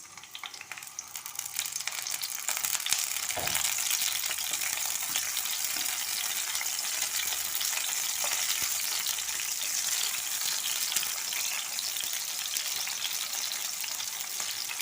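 Tomatoes frying in coconut oil in a pan on a stove, a loud, close, steady sizzle with crackling hiss throughout and a brief stir or clunk partway in.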